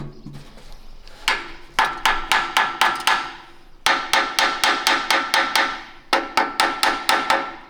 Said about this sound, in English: I'm gonna hit that bowl a couple times.